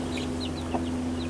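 A mother hen with her baby chicks makes soft clucks and faint peeping, scattered and close, over a constant low hum with one brief louder cluck midway.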